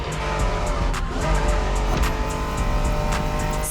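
A Honda NSX sports car roaring along in a racing game, engine held at a steady loud drone with tire squeal and skidding laid over it, plus a few sharp clicks and ticks throughout.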